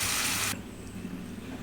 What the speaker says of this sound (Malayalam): മിക്സി കഴുകിയ വെള്ളം കൂടെ ഒഴിക്കും.